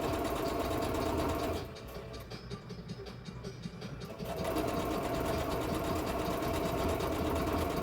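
Close sewing machine straight-stitching fleece blanket material, a steady loud mechanical hum that briefly slows and softens midway before returning to full speed.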